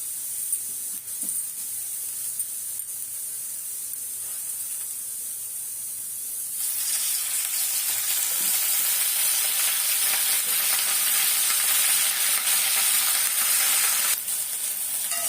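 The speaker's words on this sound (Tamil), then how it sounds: "வெண்டைக்காய் வந்து முதல்ல கார குழம்புக்கு நல்லா எண்ணெயை போட்டு வதக்கி எடுத்துக்கணும்" Okra sautés in oil in a hot kadai, a steady hiss of frying that swells louder and brighter midway, with faint stirring, no talk.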